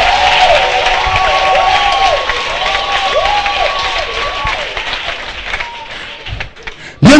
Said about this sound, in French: Acclamez le Seigneur Jésus très fort.